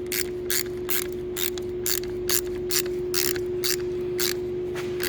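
A ratchet tightens a 10 millimeter battery bolt on a Toyota, giving a close run of rapid, even pawl clicks over a faint steady hum.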